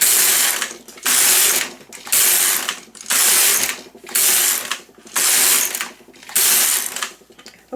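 LK150 knitting machine carriage pushed back and forth across rows, a loud rhythmic ratcheting clatter repeating about every second in steady passes.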